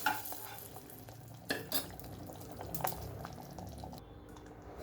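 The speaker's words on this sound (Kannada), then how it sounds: "ಇದಕ್ಕೆ ಒಗ್ಗರಣೆ ಹಾಕ್ತಿದ್ದೀನಿ." Tempering spices crackle in hot oil for a vegetable kootu, a continuous close sizzle broken by a few sharper pops and spoon-against-pan stirring sounds.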